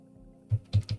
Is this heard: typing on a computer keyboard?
yes